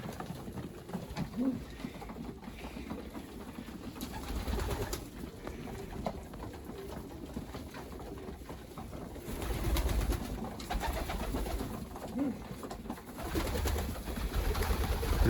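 Soft pigeon cooing murmurs through a quiet, continuous background, with faint patters and rustles and no clear speech.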